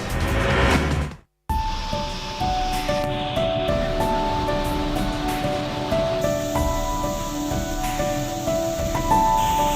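Waterfall plunging right beside the Kedareshwar Mahadev temple in Sailana town, Ratlam: a steady, dense rush of falling water that fills the scene, broken by a brief dropout early on.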